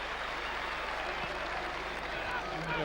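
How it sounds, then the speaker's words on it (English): Football crowd at a 1991–92 Middlesbrough match cheering on Bournemouth, heard as a dense, steady roar from the stands with a commentator speaking over it. "Crowd really behind the Cherries at the moment"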